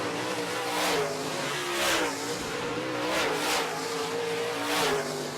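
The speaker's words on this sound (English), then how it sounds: "Being chased by the 57 of Kevin Sexton" Modified race cars in a heat race on an oval track, their engines roaring and revving loudly as several cars sweep past in repeated surging waves, with no talk over them.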